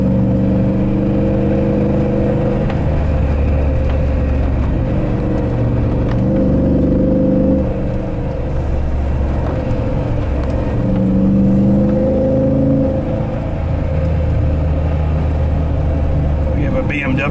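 A 500 HP Hemi-powered Jeep JK on a test drive, its engine a steady, loud low rumble throughout with swells of revving as it accelerates, while people talk over it inside the cab.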